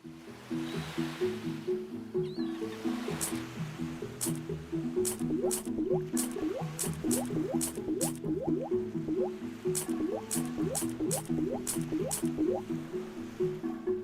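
Watering crops in the cozy farming video game Sunset Sprout gives repeated short, squishy drips and splashes at an irregular clicking pace. They sit over a steady looping background tone and come through fairly clearly, with no talking.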